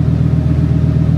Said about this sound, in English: you'll probably hear now that the exhaust changes as I swap these modes